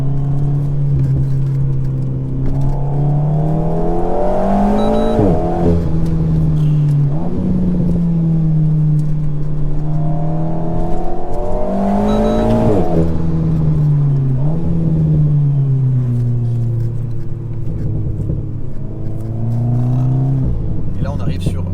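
A modified Alpine A110 under full throttle, its engine note climbing in long sweeping pulls that dip and rise again between corners, loud and close throughout with someone talking over it.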